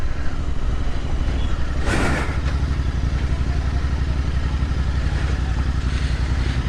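Royal Enfield Continental GT650 motorcycle riding along, its steady engine drone loud and continuous with a brief whoosh of passing air or traffic midway.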